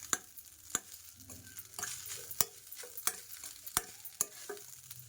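Coriander rice coated in oil being stirred in a pan, with a sharp spoon clack against the metal about every half second over a soft, steady frying sizzle.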